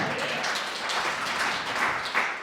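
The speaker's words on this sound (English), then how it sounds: "Can we clap for that, right?" Audience applause at a live comedy show in a theatre, a steady wash of many hands clapping together for a couple of seconds with no talk over it.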